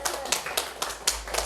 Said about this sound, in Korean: 우리 하나님께 박수를 드려보세요